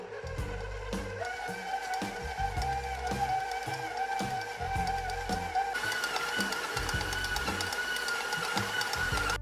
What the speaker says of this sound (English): I'm gonna do the bread hook, which is kind of like kneading it with this